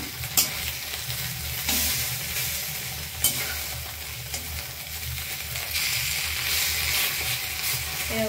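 An egg sizzles steadily in a hot frying pan, a continuous close crackle with a few sharp scrapes or taps from a utensil, no talking.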